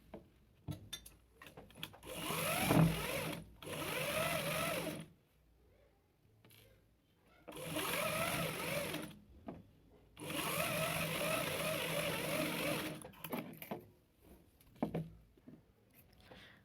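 Velvet and lining fabric for a blouse are stitched on a sewing machine in several bursts of a few seconds each, a close whirring clatter separated by quiet pauses and handling noises.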